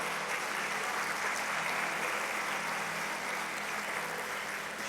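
A church congregation applauds, a dense, steady wash of clapping heard from some distance, fairly quiet and sustained without a break.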